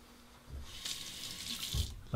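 A straight razor rinsed under a running tap during a shave, with a steady splashing stream of water from the faucet, close and clear, and a couple of small knocks at the end.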